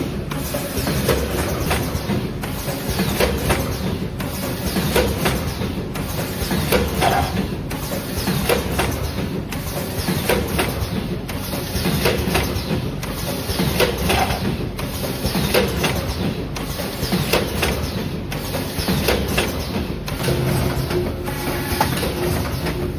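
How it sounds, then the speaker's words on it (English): A multi-lane sachet packaging machine unwinds and aligns film rolls, clattering and whirring in a steady repeating mechanical cycle about every two seconds, close and continuous. "Film rolls are automatically unwounded and aligned."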